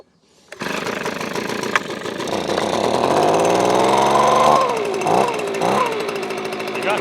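A Titan leaf blower's small two-stroke engine runs on choke, starting abruptly and droning loud and steady with a rising pitch, then dipping and surging unevenly near the end as if about to cut out.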